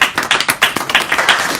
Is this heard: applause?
yes